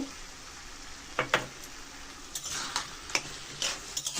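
Soft sizzling of ground spice paste frying in a pan, with intermittent scraping and clacking strokes as it is stirred, close and fairly quiet.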